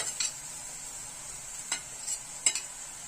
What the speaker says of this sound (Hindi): ये प्याज को मैं बहुत ज्यादा नहीं भून रही हूँ।